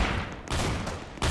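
Rapid gunfire in a Roblox shooter game, a loud, dense run of overlapping shots that barely pauses, close up with no talking.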